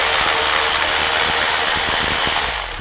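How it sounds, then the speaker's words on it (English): A ratchet with a 10mm socket clicks in rapid, regular strokes as it removes a nut from a bracket on a 2000-2006 Chevy Tahoe, close and loud with no talking. "Just use a 10mm socket."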